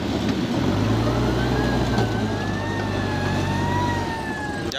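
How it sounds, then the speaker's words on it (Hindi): A steady wailing plant siren rises and falls over a constant low engine rumble from loaders at a plant hopper, loud and continuous, easing off near the end. "सायरन बज गया"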